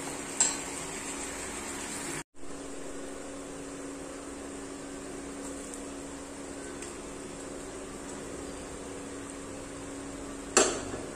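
Peanuts stirred into a banana and rice flour mixture in a pan over the flame, a steady soft sizzle with faint scraping, a couple of sharper clicks of the utensil, and a brief dropout early on.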